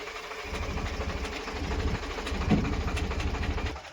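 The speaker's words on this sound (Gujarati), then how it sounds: "જયસુખભાઈના ટ્રેક્ટરમાં જો કે નળીમાં થોડો ફોલ્ટ થઈ ગયો છે એટલે આવું બધું હાલ્યા કરે" A farm tractor with a faulty, leaking oil pipe idles nearby with a steady, rapid mechanical chugging and a slight knock, continuous and moderately loud, with no talk over it.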